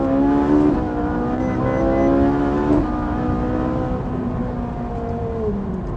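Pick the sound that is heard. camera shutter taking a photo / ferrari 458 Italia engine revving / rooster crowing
ferrari 458 Italia engine revving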